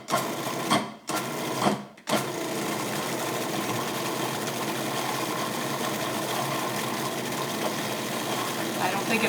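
A food processor blends smoky hummus, starting with two short pulses and then settling into a continuous loud, grinding whir close by.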